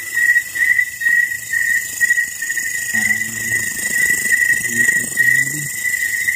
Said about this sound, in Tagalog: grabe yung tingog ng kuliglig